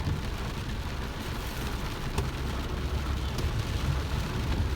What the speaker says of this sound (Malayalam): നല്ല മഴയത്താണ് നമ്മളിപ്പോൾ നൈറ്റിൽ അബഹയിലൂടെ യാത്ര ചെയ്തുകൊണ്ടിരിക്കുന്നത്.